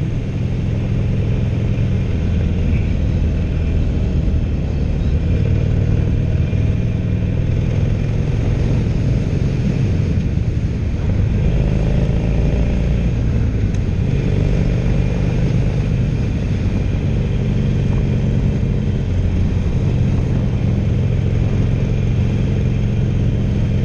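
A 2016 Harley-Davidson Roadster cruising in fourth gear, a steady low engine drone with wind rush, loud and close for the whole stretch without noticeable revving changes.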